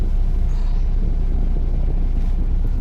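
Road traffic near the Hinjawadi bridge in Pune, heard as a steady, loud low rumble of passing cars and trucks that continues without a break.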